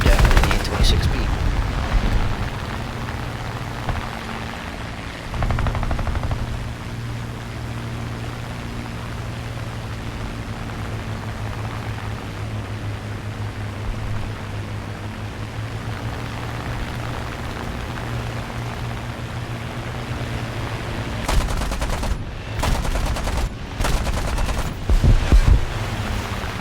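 A Spitfire LF Mk IX fires its guns in a video game dogfight, with loud broadband bursts of gunfire at the start and again near the end over a steady engine drone.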